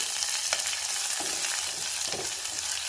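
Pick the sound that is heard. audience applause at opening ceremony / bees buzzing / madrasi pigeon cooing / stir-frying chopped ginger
stir-frying chopped ginger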